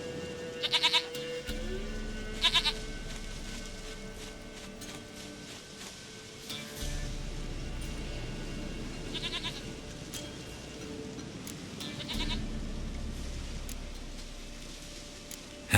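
Goat bleats in The Witcher 3, a few short repeated calls over a low ambient game background with a steady drone, spaced a few seconds apart.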